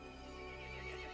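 A horse whinnies in Resident Evil Village, one quiet, brief neigh with a faint clip-clop of hooves beneath it.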